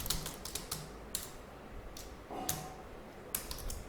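Quick bursts of keystrokes on a computer keyboard while writing C code, with clusters of clicks separated by short pauses, close and fairly faint, with no talking.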